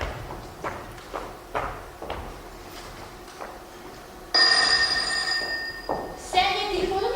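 An electronic telephone rings in a stage play's indoor scene, a steady trilling tone that starts abruptly midway, preceded by soft thuds and footsteps, with brief background sounds around it.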